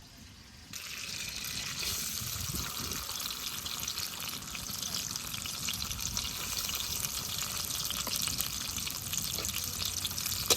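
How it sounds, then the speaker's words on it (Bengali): Garam masala, onion and garlic fry in oil in a kadai, giving a loud, continuous sizzling hiss that starts after a short quiet moment and runs steadily on, with no speech. "সবকিছু খুব ভালোভাবে ভেজে নই"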